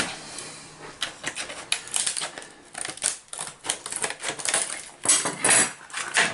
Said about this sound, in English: we have a stout pair of scissors. Let us get into the packaging